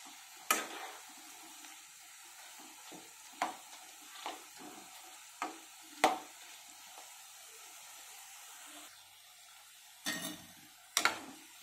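Onion pakoda deep frying in oil in an Andhra-style kitchen, a soft steady sizzle broken by sharp scattered clinks and stirring knocks of a spoon against the pan, no talking.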